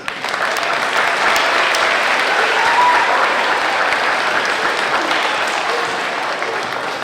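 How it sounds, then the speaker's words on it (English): A large crowd at a school's 25th anniversary gathering gives a steady, full round of applause, loud and continuous throughout with no talking over it. "give ourselves a round of applause"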